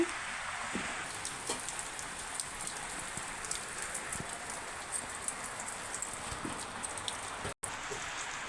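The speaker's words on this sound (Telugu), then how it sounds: "వర్షం ఇప్పుడు కూడా ఫుల్గా వర్షం పడుతుందండి" Heavy rain falls steadily on a surface during cool, wet weather, a dense continuous hiss with scattered drop impacts, fairly faint and unbroken across the whole stretch with no voices.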